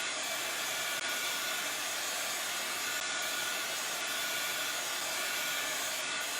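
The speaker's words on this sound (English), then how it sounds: "Because this is a heat tool, so it gets very hot." A handheld heat tool blows hot air in a steady, continuous whoosh of broadband hiss, close and even throughout with no talking.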